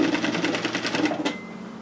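A sewing machine stitches a straight 1 cm seam across a sweater pocket, running in a steady rapid chatter for over a second before stopping, close and clear with no talking.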